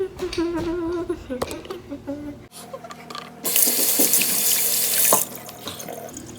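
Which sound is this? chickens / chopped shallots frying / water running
water running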